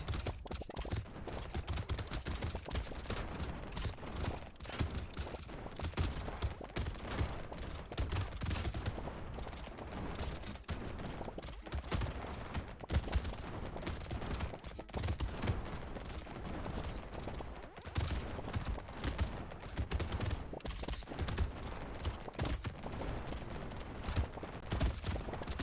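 Rapid SMG and turret gunfire from the video game Brotato rattles on continuously in dense, steady bursts of sharp clicking shots for the whole stretch, with no voices.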